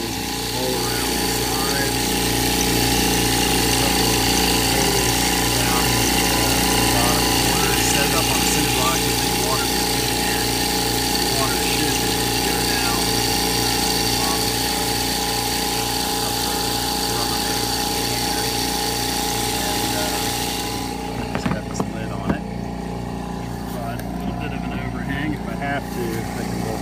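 A Thomas Industries air compressor runs as a DIY pond aerator, giving a loud, steady mechanical hum with a constant pulsing drone throughout, then a few clicks and knocks near the end.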